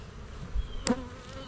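Honey bees buzzing at an open hive during an October inspection, a soft continuous hum with one bee zipping close by in a brief louder buzz.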